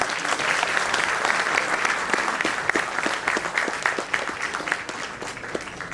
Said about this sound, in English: May I request everyone to welcome Mr. Om Birla ji with a huge round of applause, please.